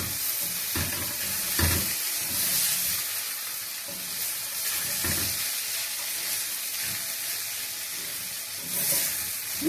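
Pumpkin leaf greens, boiled with salt beforehand, sizzle and fry in a pan while being stirred, a steady close hiss with intermittent scraping stirs and no talking.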